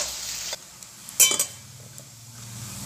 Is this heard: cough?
no